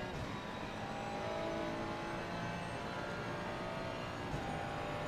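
A race car laps the Circuit of the Americas with a steady, moderately loud engine drone heard from inside the cockpit, its tone holding fairly even with slight shifts as the car accelerates.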